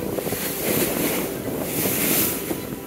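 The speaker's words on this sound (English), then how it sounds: "our boat started getting slammed by strong frontal waves" Heavy surf and strong frontal waves churn and slam steadily around a boat in Iron Bottom Sound, Solomon Islands, with gusty wind buffeting the microphone throughout; no voices.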